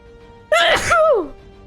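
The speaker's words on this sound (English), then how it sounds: "I'm gonna sneeze." A single sharp sneeze, close and loud, with a brief breathy build-up and a quick voiced burst that trails off.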